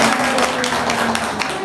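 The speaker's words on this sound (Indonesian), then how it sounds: "Boleh tepuk tangan dulu yang meriah." A room full of people claps together at a parenting talk, a dense, steady patter of hands that fills the short stretch at close range.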